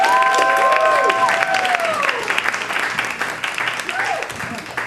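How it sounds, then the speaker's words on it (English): Comedy club crowd on the west side clapping and cheering for a comedian, loud applause with whoops and whistle-like cheers rising over it early, then easing into scattered clapping. "Make some noise. Start clapping your hands for Dave Konig."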